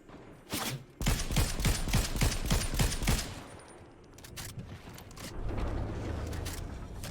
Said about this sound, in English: We hit him like 30 damage with the shotgun there.